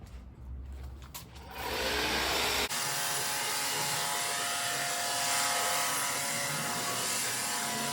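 A pressure washer set to turbo function rinses a truck, first as a muffled spray, then as a loud, steady, harsh hiss of water jetting close by for most of the stretch.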